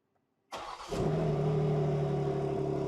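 A 2025 BMW M2 G87 engine cranks and starts, then settles into a steady, subdued exhaust idle with the exhaust flaps closed, a low, even drone.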